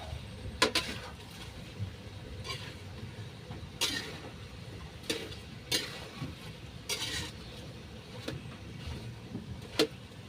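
Pork adobo with string beans is stirred in a pan, with a spoon scraping and clacking at irregular intervals over a low, steady sizzle, close and fairly quiet.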